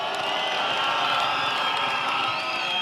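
Large outdoor political rally crowd at Mai Mahiu, Naivasha, Kenya, clapping and cheering in a loud, steady wash of noise that holds at an even level throughout.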